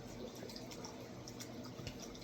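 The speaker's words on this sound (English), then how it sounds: "Go ahead and throw all the vinegar you can until you fill it up." Vinegar pours into a container for homemade hot sauce, a quiet, continuous liquid trickle with small splashing drips, heard close and faint without voices.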